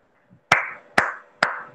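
Three loud, crisp hand claps, evenly spaced about half a second apart, close by with no talking.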